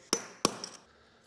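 A hammer drives a metal anchor pin into concrete: two sharp metallic strikes land close together, followed by a couple of lighter taps, with nothing else in the quiet background.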